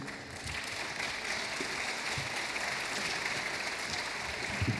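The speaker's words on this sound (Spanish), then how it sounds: "Yo creo que eso ya se merece un aplauso antes de empezar." A seated audience at a Spanish talk event applauds steadily, a soft, even wash of many hands clapping heard from a distance with no break.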